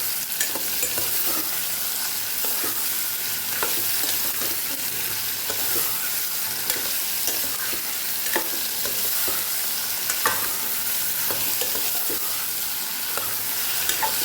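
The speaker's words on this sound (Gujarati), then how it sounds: "પહેલાં તેલ સાથે સાતળી લેવાનું છે, જે આપણે વઘાર કરેલો એમાં સાતળી લેવાનું છે" Bottle gourd and potato pieces sizzle steadily in hot oil while being stirred, with scraping clicks from the utensil; there is no talking.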